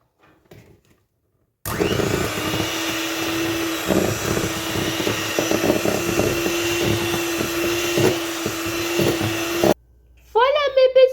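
An electric hand mixer beats chestnut sponge cake batter in a bowl, a loud steady motor whine starting abruptly, droning for about eight seconds with rattling against the bowl, then cutting off before a voice speaks.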